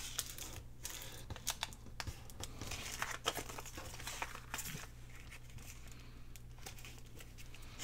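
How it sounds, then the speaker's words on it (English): Junk mail paper being folded by hand, faint close crinkles and soft papery taps scattered over a low steady background hum. "So I'm just going to fold it up just a little bit more."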